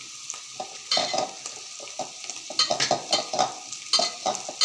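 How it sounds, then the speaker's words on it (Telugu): Spices with chili powder and coriander powder fry and get stirred in a pan for cauliflower fry, giving a steady close sizzle and repeated bursts of spoon scraping that come in an irregular rhythm, with no voice. "అది కొంచెం బాగా బ్రౌన్గా కొంచెం ఫ్రై అయ్యేదాకా వేపుకుంటాం"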